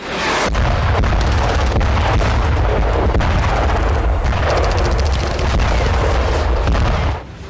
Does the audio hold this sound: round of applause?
no